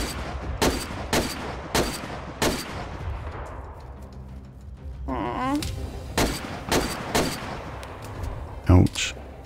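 Gunfire in the survival game DayZ: repeated sharp shots, some single and some in quick pairs, loud and close, with a brief rustling scuffle in the middle and a final heavy burst near the end.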